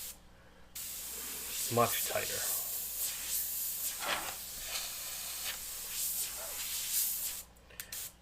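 An airbrush sprays paint onto a tiki painting with a steady, close hiss that runs for several seconds before cutting off, while a voice briefly speaks over it.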